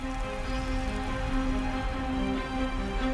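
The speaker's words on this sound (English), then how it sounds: "Next to me, the rain drips onto the dried leaves." Rain drips steadily onto dried leaves on a forest floor in April, a close, continuous patter with a low hum running beneath it.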